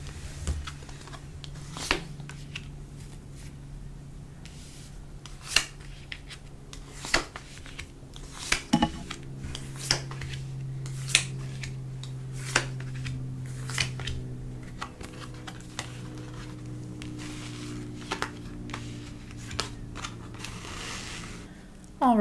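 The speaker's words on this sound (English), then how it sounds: "when I was shuffling the cards for your guys' reading" Tarot cards are handled and shuffled at close range: a sparse series of crisp clicks and snaps over a low steady hum, with no speech.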